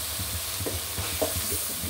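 Fish curry with water lily stems being turned over in a pan: soft scraping stirs and gentle sizzling bubbles, a few clearer strokes near the middle, steady and close with no talking.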